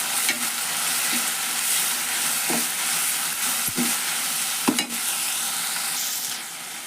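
Sprouted moth bean stir-fry being stirred in a hot pan, with steady sizzling frying and scraping spoon strokes that give a few sharper clicks, close and alone.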